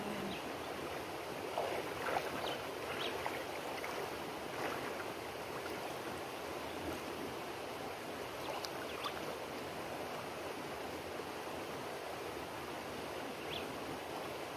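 A river in Jamaica flows in a steady, even rush of water that runs unbroken throughout, moderately close and fairly quiet, with no talking over it.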